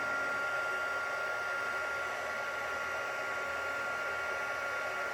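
A heat tool blows steadily and close throughout, a continuous hissing whoosh melting embossing powder on a stamped card, with no pauses.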